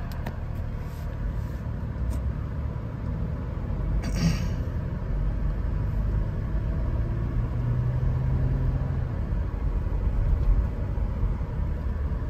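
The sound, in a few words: 2013 Toyota 4Runner driving on a test drive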